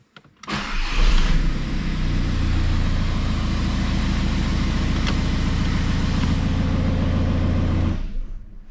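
Audi A3 8P with the 2.0 TDI PD diesel engine cranks briefly and fires up, then settles into a loud, steady clattering idle close by for several seconds before cutting out.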